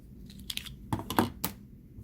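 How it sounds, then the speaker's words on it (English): An ink cartridge for a jetStamp Graphic 970 is pulled from its plastic protective clip. Close, quiet plastic clicks and rustles come in a few separate bursts over a near-silent background. "Take the cartridge out of the plastic protective clip."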